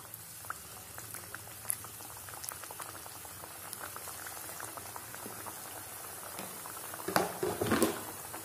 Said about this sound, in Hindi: इधर ऑयल अच्छा गर्म हो चुका है तो इसमें मैं एक बार चार पीसेस डाल देता हूँ